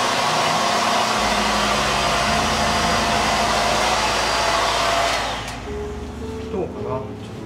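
A hair dryer blows loudly and steadily on curly hair during a haircut at a salon, then cuts off near the end, leaving brief soft handling noises and a voice.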